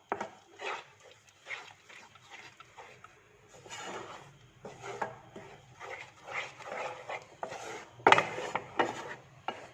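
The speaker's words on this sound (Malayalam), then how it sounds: "ഇത് കണ്ടിന്യൂസ് ഇളക്കി കൊടുത്തുകൊണ്ടിരിക്കുക" Coconut ladoo mixture is stirred in a pan with an irregular series of close, soft scraping and rubbing strokes. A few sharper knocks of the spoon against the pan come through, and no one speaks.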